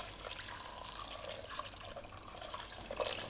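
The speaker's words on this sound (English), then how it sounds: "we can add our stock" Stock poured into a pan over a small amount of reduced red wine, a steady liquid splash and trickle, fairly close and moderately quiet, with no talking.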